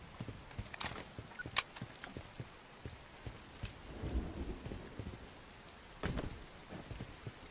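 Steady rain patters outdoors with a few sharper drips and thuds, and a low rumble swells in midway, all at a moderate, distant level.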